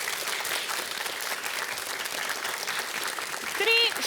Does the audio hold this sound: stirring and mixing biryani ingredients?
no